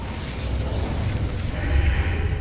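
Incendio, a fire spell, is cast in Hogwarts Legacy, giving a dense, rumbling whoosh with a heavy low-end burst that builds and swells over a couple of seconds.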